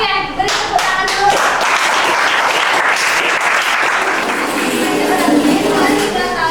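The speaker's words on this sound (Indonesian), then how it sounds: "beri tepuk tangan dulu" Schoolchildren in a mathematics classroom clap together, a brisk burst of many hands that starts suddenly and holds steady at close range, with a teacher's voice faintly audible early on.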